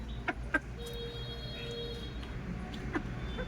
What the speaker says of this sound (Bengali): ডিম পাড়া মুরগি, ডিম পাড়বে।